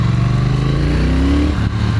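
A 2018 Triumph Thruxton motorcycle's big twin engine revs up under acceleration, a loud, close, continuous rumble whose pitch climbs steadily before easing briefly near the end.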